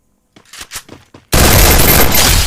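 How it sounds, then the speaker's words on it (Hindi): MP40 submachine gun in the Free Fire mobile game firing one sustained loud burst of rapid automatic gunfire. It starts abruptly after a few quieter game sounds and holds steady to the end. "अभी तेरे को हेडशॉट मारूंगा MP40 का"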